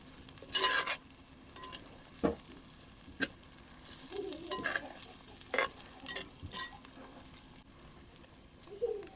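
Prawns fry with masala in a pan over a wood-fired stove, a soft sizzle broken by several sharp stirring scrapes and clinks of the spatula, close by and without speech.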